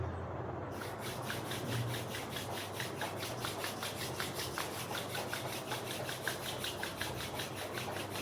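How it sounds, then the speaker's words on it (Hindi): Two palms rubbed briskly together in a quiet room, a continuous dry swishing friction with a fast back-and-forth rhythm, close and steady for several seconds. "दोनों हाथ को ऊपर लेंगे, आपस में रगड़ेंगे।"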